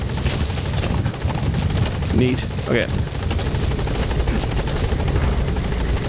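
A helicopter in Metal Gear Solid V hovers at a desert landing zone, its loud continuous rotor drone filling the scene while someone speaks briefly over it.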